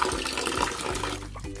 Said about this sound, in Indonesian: mencuci singkong dengan air mengalir